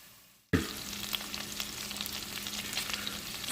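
Shrimp hit the hot pot and begin frying for shrimp Alfredo, an abrupt onset followed by a steady, close crackling sizzle with a faint low hum underneath.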